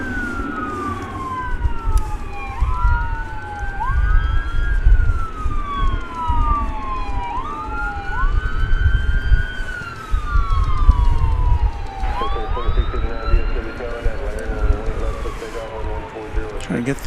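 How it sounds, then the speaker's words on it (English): Emergency vehicle sirens wail in repeated rising and falling sweeps near DFW Airport on a wet day, moderately distant over steady traffic and rain-laden background noise, and a second siren joins toward the end. "You hear some emergency vehicles in the background."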